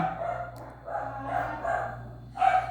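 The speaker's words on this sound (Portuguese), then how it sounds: "enquanto os cachorros estão latindo" Several dogs barking in short bursts at a moderate distance, four or five yaps separated by brief pauses over a low steady hum.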